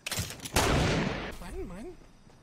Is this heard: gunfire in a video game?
yes